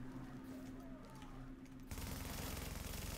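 A lightweight machine gun fires in the shooter game The Division, a fast burst of rapid shots that erupts loudly after a quieter stretch of game ambience with faint tones.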